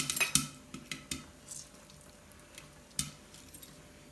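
A metal spoon stirs Maggi noodles with chilli and lemon juice in a bowl, giving a string of light, close clinks and scrapes, a few sharper taps standing out, with no talking.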